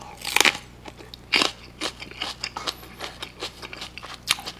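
Crisp, crunchy bites and chewing of a cucumber chili pepper, close to the mic, with several loud snaps followed by steady wet crunching, no talk.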